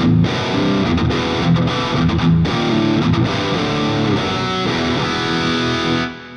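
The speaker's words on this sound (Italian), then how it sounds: "Proviamolo con tanta distorsione." An electric guitar played through heavy distortion rings out loud and continuous, with thick, saturated chords and riffs over about six seconds before cutting off near the end.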